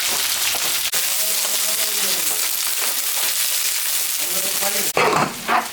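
Garlic, onion and green chillies frying with cumin and dried chilli in a home kitchen, a steady loud hiss of sizzling oil throughout, with a brief clatter near the end.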